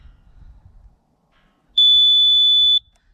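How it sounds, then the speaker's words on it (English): A single steady electronic beep from a Mighty Mule 371W gate opener control box sounds for about a second, loud and close, with faint low rumbling and handling noise before and after. "Hold them both together until it beeps."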